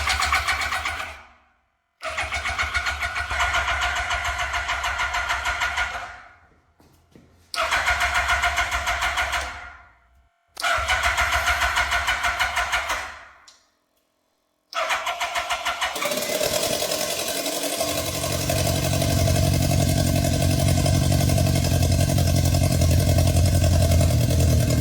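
A scrap Yamaha R1 sportbike from a junkyard, fed from a gasoline bottle after an oil change, cranks in several long bursts separated by silences, then catches and settles into a loud, steady, close idle.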